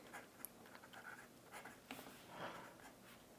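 Franklin-Christoph Model 46 fountain pen with a medium nib scratching faintly across paper in short strokes, quiet and close, with no talking.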